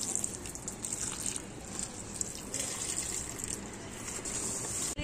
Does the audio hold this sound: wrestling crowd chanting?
no